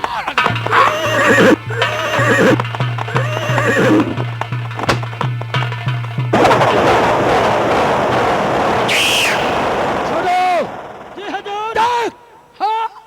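A horse, the king's mount entering a forest during a hunt, whinnies several times with rhythmic hoofbeats. A sustained whistle-like tone and rushing noise run beneath, and further shrill neighs come near the end.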